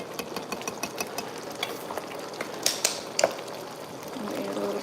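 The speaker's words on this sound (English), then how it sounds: "Remember to stir it good." Black pepper being stirred into dinner in a pan: scraping and clinking of a utensil against the pan in irregular strokes, with a quiet sizzle underneath.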